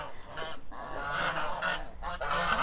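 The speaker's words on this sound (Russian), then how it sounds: "Гуси, курочки." Domestic geese honk loudly and close by in a farmyard, a dense run of overlapping nasal calls repeating without pause.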